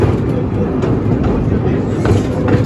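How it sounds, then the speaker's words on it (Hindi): Train rolling through Khewra railway station near the salt mine, a loud, steady rumble with faint rhythmic clatter filling the whole stretch, close by. "हमारी ट्रेन गुजर जाएगी"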